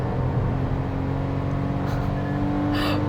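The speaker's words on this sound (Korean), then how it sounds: "웅장한 엔진음을 보여줍니다" Small Kia Morning 1.0 naturally aspirated three-cylinder gasoline engine with four-speed transmission under hard throttle, a steady droning hum heard from inside the car, with no talk over it.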